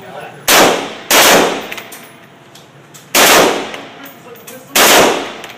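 Gunfire at an outdoor shooting range: four loud, sharp reports at irregular intervals, each with a ringing, decaying tail, no talk over them.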